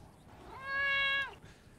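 A person imitates a cat meow with a single drawn-out, nasal mew lasting about half a second, close and fairly clear against a quiet background.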